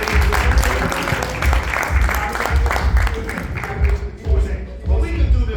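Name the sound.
audience applause and clapping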